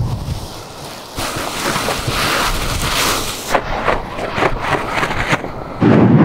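Strong wind buffets the microphone in gusty, roaring waves during a paraglider launch on open ground, loud and continuous throughout with no speech.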